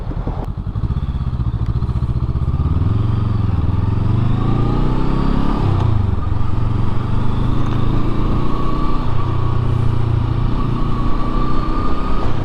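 A Honda SCL500 scrambler motorcycle is ridden, its engine a loud, close, continuous drone that rises and falls in pitch as the revs change.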